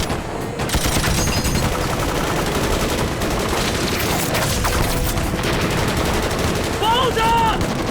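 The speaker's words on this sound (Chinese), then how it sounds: "这爆炸声中还夹杂着激烈的枪战声。" Rapid bursts of machine-gun and rifle fire crackle through a war drama battle scene, dense and continuous amid explosions, with shouting voices briefly breaking through near the end.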